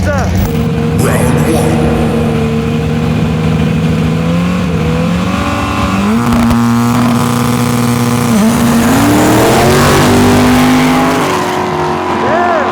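An 1100hp Honda Integra GSR and a big block police car in a heads-up 1,000-foot drag race, engines roaring loudly as they rev and shift through gears, rising and falling pitch sustained throughout, with voices mixed in.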